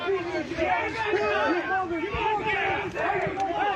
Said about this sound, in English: it sounds like the angry crowd in a South Park episode